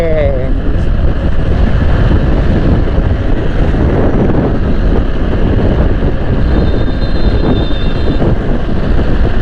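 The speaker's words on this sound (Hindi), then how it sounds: "बहुत तेज़ हवाएं चल रही हैं।" Strong wind roars steadily against the microphone with a low rumbling buffet, like an open vehicle window at speed on a highway, continuous throughout.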